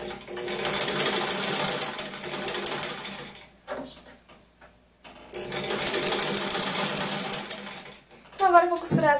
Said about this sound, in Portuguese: Então agora eu vou costurar as duas laterais